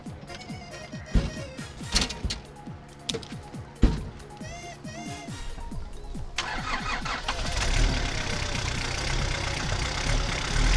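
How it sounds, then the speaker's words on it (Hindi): An old couple's car starts and pulls away on a comedy stage, its mid-pitched engine catching after a few sputters and then rising to a steady, louder drone as it drives off, with scattered noises over it at first. "वो देखो ऐसे चलती है गाड़ी।"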